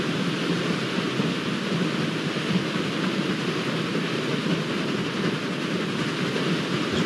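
Train running in the transport simulation game Transport Fever 2, a dense continuous rumble and rattle of rolling wagons, loud and unbroken, with no talk.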